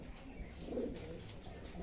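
A male pigeon gives a low, muffled cooing call close by, a single soft rolling phrase set against a faint background hum.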